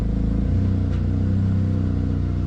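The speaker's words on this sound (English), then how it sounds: "Give her a little rev." Car engine idling then revving up close by in a low, throaty drone that swells and eases over a couple of seconds.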